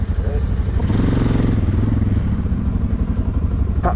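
A dirt bike's engine rumbles loudly and continuously up close with a rough, pulsing throb, while a voice may be faintly present underneath.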